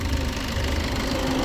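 A Maruti Brezza ZDi diesel car engine runs steadily at idle, a continuous low rumble with a faint knocking texture, close and alone without talk.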